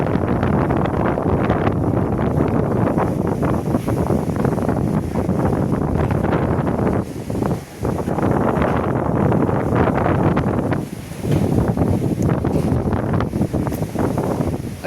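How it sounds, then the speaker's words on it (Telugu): Strong, steady wind roars and buffets the microphone at a high hilltop viewpoint in Tirumala overlooking Tirupati city, loud and continuous with only brief lulls. "నేను నా వాయిస్ ఆపితే ఆ గాలి ఎలా వస్తుంది, ఎంత స్పీడ్గా వస్తుంది అనేది కనపడుతుంది"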